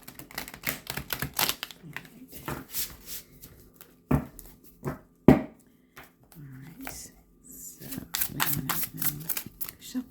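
Large tarot cards being shuffled by hand, with bursts of quick riffling clicks and flutters, a couple of sharp taps, and some quiet talk in between.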